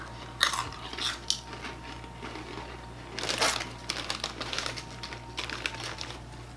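Crunchy snacks from an international snack box being bitten and chewed close to the mouth, with crisp irregular crackles in several bursts over quiet background hum and faint wrapper crinkling.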